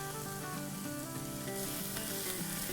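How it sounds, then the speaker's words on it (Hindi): Chopped onions sauté in two tablespoons of oil in a pot, a steady close sizzle that holds level throughout with no voices. "इसको हम सौटे करेंगे।"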